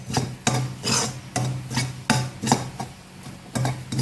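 A spoon scrapes and stirs gram flour roasting in ghee in a pan for Chettinad ukkarai sweet, giving repeated rhythmic rasping strokes about twice a second, close and clear with nothing else heard.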